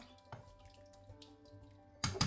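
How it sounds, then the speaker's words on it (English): Water is poured into a pot while making cabbage and duck soup; a few faint kitchen clicks and knocks come first, then a short, louder burst of pouring splashes near the end. "Then we put more water."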